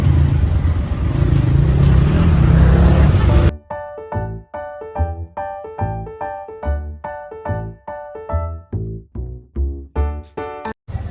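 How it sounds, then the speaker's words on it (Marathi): An auto rickshaw ride opens with loud, continuous engine and road rumble for a few seconds, then gives way to a rhythmic, pulsing tonal sound. "तर आता आम्ही रिक्षात बसलेलो आहे"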